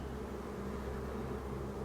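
Honeybees buzz at a hive in a steady, continuous drone that stays faint and even throughout.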